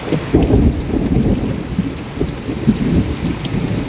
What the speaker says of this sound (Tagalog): inikidlat